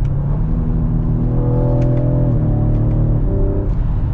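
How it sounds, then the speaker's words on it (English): A 2022 Ford Explorer ST pulls hard in manual mode, its engine note climbing in pitch then dropping sharply at quick upshifts, a loud close cabin drone stepping down twice over a few seconds. "The upshifts are really sharp on this, actually."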